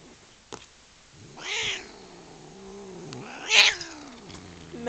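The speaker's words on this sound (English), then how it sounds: "This is Kitty." A nervous pet cat meows a couple of times indoors, close to the microphone, with short plaintive calls separated by quiet pauses.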